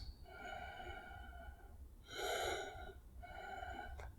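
Pranayama breathing exercise breaths, a sequence of audible, hoarse nasal inhales and exhales with a slight wheezy tone, the middle breath loudest, close and unaccompanied by talk.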